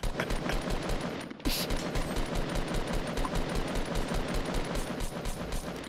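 Rapid automatic gunfire in Fortnite, heard as loud, continuous bursts of repeated shots, broken by a brief pause before the fire resumes.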